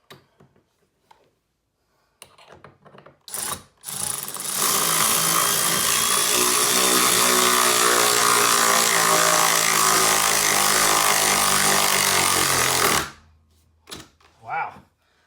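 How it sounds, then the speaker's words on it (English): A power drill whines continuously for several seconds, boring into a wooden floor joist, with brief knocks and scrapes before and after the steady grinding run. "people may be drilling into a floor joist"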